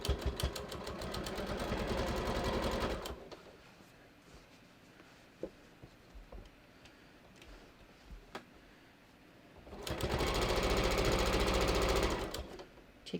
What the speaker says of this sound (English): Just going to sew really slowly across those bulky seams.